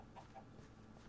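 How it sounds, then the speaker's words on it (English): A chicken in a co-op video game gives a couple of quick, faint clucks within about a second, heard quietly over a low steady game background. "Where's the chicken that's in our house?"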